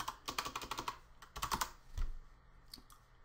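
Typing on a computer keyboard in After Effects, a rapid run of close key clicks, a second short burst, then a single thump and a few faint taps as it quiets.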